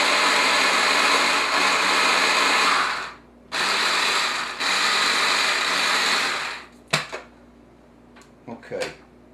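A food processor grinds garlic for a garlic pizza in two loud, close whirring pulses of a few seconds each, then stops, followed by a few clattering knocks.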